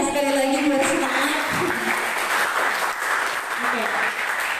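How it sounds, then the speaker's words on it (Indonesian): Applause from a student audience at a faculty student-council (BEM) candidate debate at Universitas Labuhanbatu, loud and steady throughout, with some voices and cheering mixed in. "boleh beri tepuk tangannya sekali lagi buat semangat"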